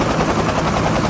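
A helicopter in a battleground video game makes a dense, loud, steady rotor roar with rapid pulsing chop throughout, with no voices over it.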